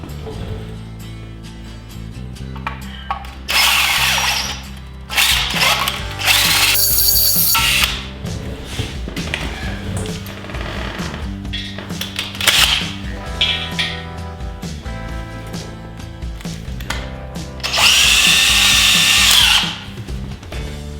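A power drill with a W number bit bores into metal for an engine midplate on a front-engine dragster, in several loud whining bursts separated by quieter grinding, rubbing and handling sounds.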